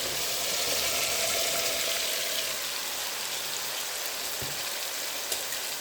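Chopped apple gourd (tinda) hits hot fried masala in a tinda-aloo curry, giving a steady broadband sizzle that is strongest at first and then settles to a constant hiss.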